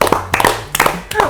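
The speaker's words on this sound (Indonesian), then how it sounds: "Gua tepuk tangan." A few sharp hand claps ring out close by in quick bursts, with talk-like vocal sounds threaded between them.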